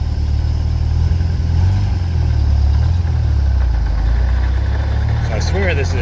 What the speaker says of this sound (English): Alright, here we are, 1952 MGTD. Get an easy start.